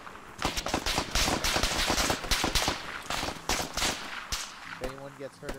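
Heavy firefight in Arma 3, a co-op military shooter, with rapid rifle and machine-gun bursts crackling back and forth, loud and dense, then easing off near the end.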